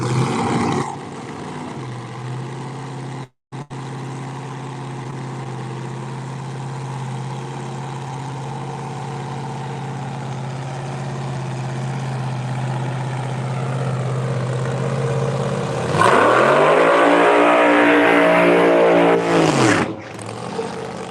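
A drag racing car idles high and steady with a low droning engine note, then revs sharply and loudly near the end before cutting off abruptly.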